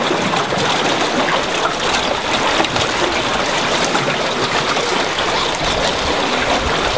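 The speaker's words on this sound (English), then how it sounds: "A good flow of water through the box all the time" A smolt trap box on a river carries a strong, continuous rush of water. The flow is loud and close, a steady broadband torrent throughout with no voices.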